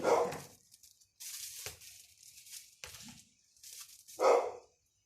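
A neighbour's dog barks nearby in a few loud, separate bursts with short pauses between them, heard alone with no talking.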